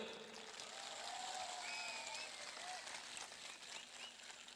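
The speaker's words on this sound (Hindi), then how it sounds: "ताली दो" Steady, fairly faint applause from a crowd at a ceremony honoring an IAS officer, a continuous wash of clapping without pauses.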